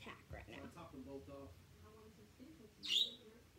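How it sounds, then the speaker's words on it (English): A bird nearby gives a single brief, high chirp near the end, fairly faint and partly under a person talking quietly close by. "I got a bird chirping right over there."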